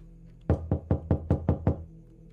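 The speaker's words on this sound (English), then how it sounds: "Who's knocking this late?" A door knocked on late at night in a horror video game, seven sharp evenly spaced raps, loud and close against a quiet low hum.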